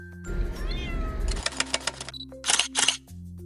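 Cats meowing from the back seat of a car at a petrol pump, a few thin plaintive mews over engine rumble, followed by a rapid burst of camera shutter clicks.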